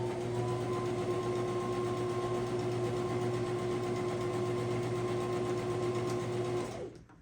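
A sewing machine runs continuously while stitching scraps of quilt fabric for a scrappy rainbow quilt, a steady close mechanical whir and hum that holds for several seconds and then stops abruptly, with no talking.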